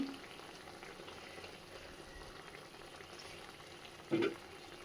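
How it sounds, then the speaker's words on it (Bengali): Pabda fish frying in a pan with black cumin and green chilli, a steady low sizzle running throughout, with a brief louder burst of spitting oil near the end. "দেখো এখানে বসিয়ে দিলাম পাবদা মাছ তো কিছুই না একদম কালো জিরে কাঁচা লঙ্কা দিয়ে করে নিলাম"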